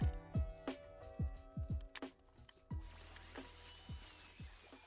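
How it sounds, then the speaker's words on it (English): A Dremel rotary tool fitted with a sanding bit grinds old leather and leftover glue off a vintage Air Jordan 3 sneaker midsole, with short whirring bursts and rising pitch sweeps, then a steadier buzzing grind, fairly quiet and close. "I'm just using my rotary tool or Dremel with a sanding bit to sand off some of the original leather"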